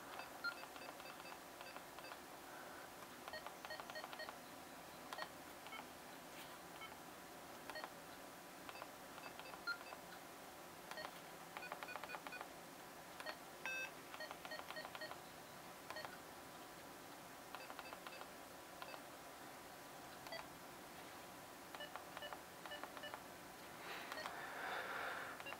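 Keypad beeps from a Kenwood D74 handheld radio while a text message is typed, short tones repeating irregularly for about 25 seconds at low level, with faint background hum and no talking.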